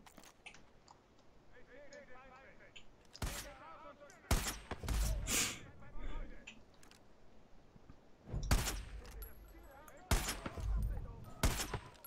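Sniper gunfire in the video game Far Cry 5, a few sharp loud cracks and short bursts spread across the span, with people talking over the action between shots.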